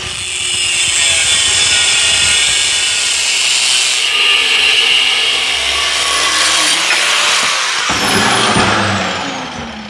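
A tool cuts a patch piece for a broken blower housing, giving a continuous loud, close grinding rasp. It holds steady for most of the stretch and changes character near the end. No one speaks.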